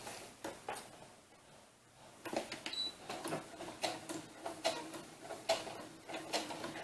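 A sewing machine stitching vinyl for doll elf or witch boots, heard as quiet bursts of rapid mechanical ticking that start and stop, close by with no talking.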